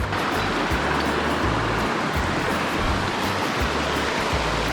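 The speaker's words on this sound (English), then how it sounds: "you got the creek right here." Cold mountain creek at the Daniel Ridge Trail exit in Pisgah, a constant close rushing of flowing water with a full, steady wash and no voices.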